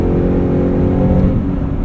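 A 2024 Ford F-150 Raptor R at highway speed, heard from inside the cab, gives a loud, steady engine drone with a broad rising surge as the 10-speed automatic kicks down, with no voices.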